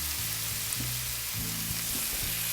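Butter chicken sauce in a pot, seasoned with salt and sugar, sizzling steadily and loudly up close while it is stirred, with soft rhythmic scraping strokes.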